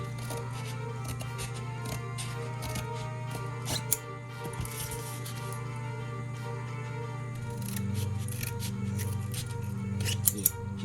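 Scissors snip repeatedly through craft material for a Christmas toy boat, a long run of close, crisp cutting clicks over a low steady background hum.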